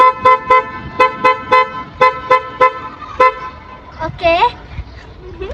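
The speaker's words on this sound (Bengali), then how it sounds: "এটা হর্ন দিয়ে অনেক সুন্দর মিউজিক বাজানো যায়।" A 1990s Toyota AD car sounds its musical horn, a series of short, loud melodic toots in a rhythmic pattern, followed by a brief warbling tone, with someone speaking briefly.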